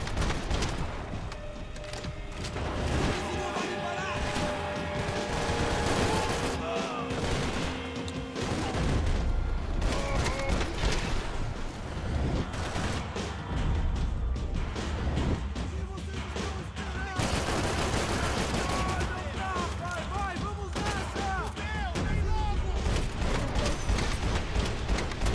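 Gunfire from the video game Max Payne 3, a dense run of shots and booms layered over game music and effects, loud and continuous throughout, with a voice occasionally talking over it.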